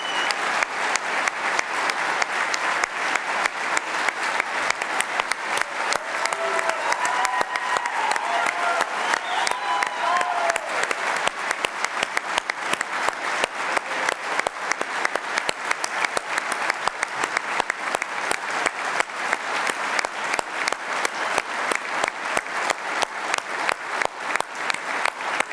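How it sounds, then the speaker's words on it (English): A military medal ceremony audience claps at length for an Air Medal recipient, sustained dense applause with sharp individual claps, even and continuous for about twenty-five seconds. "One more round of applause."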